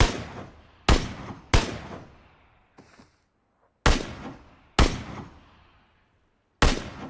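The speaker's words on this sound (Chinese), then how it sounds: "刚才的枪声定然引起了敌人的警觉" SKS rifle fire in a battle royale shooter game, six sharp single shots in a broken rhythm with short echoing tails, plus a faint muffled blast between them.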